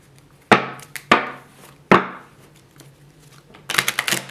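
A tarot card deck is shuffled slowly: three sharp, separate slaps of cards, then a quick riffling flutter of several taps close by at the end, with no talking.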